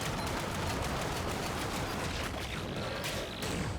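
Enemy bullet fire in ScourgeBringer crackles in a dense, continuous barrage of rapid shots and impacts, loud and busy throughout, with no speech.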